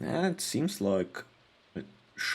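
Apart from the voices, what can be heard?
No distinct noise like a dog, phone or traffic.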